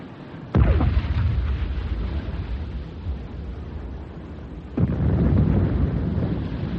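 Submarine deck gun firing shells in a wartime audio drama: a sharp loud blast near the start, then a long rumbling roar and a second heavy burst later, with no speech.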